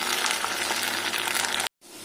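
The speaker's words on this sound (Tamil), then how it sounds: "வெங்காயம் பூண்டு தக்காளியெல்லாம் நல்லா எண்ணெயில் நல்லா வணங்கிடுச்சு." Onion, garlic and tomato frying in oil for a pepper curry give a dense, bright, steady sizzle that cuts out abruptly near the end, then resumes more quietly after a brief silence.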